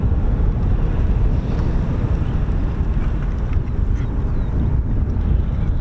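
Strong, blustery wind buffets the microphone at an airfield, a dense, loud rumble that runs without pause and masks any other sound.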